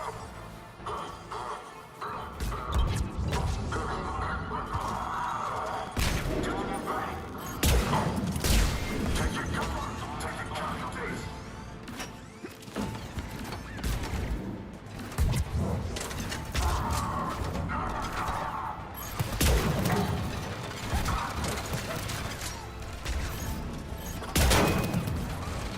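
Turret gunfire in a Mass Effect 3 battle during a Reaper invasion: loud, sustained bursts of automatic fire with clanking mechanical rattles and crashes, nearly continuous throughout.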